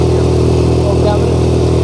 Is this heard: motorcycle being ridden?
yes